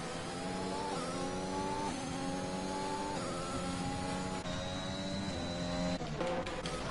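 Formula race car engines in a virtual Formula league race at Monza, a steady high-pitched whine rising and falling through gear shifts, loud and continuous with no talk.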